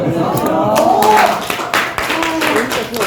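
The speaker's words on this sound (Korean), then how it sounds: "박수." Scattered clapping from a small audience at a Herbalife nutrition lecture, a brief burst of hands under a voice that keeps talking over it.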